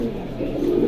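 Pigeons coo in a low, throaty, continuous murmur, loud and close, swelling slightly toward the end.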